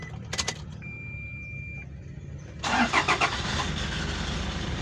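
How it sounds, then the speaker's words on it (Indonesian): A car engine cranks and catches, starting after a brief electrical whine, then settles into a steady, close idle with no talk. "sebelumnya saya akan menyalakan mobilnya terlebih dahulu ya"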